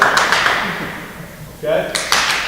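Hand claps during a basketball clinic ball-handling drill, made while a ball is tossed up: a few sharp, close slaps in a quick burst over a voice and room noise in a gym.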